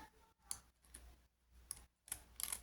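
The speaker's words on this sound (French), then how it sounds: "On prend le ciseau et on découpe." Faint, scattered snips and clicks of scissors cutting scrapbooking paper for a perpetual calendar, irregular and quiet, with soft rustling between the cuts.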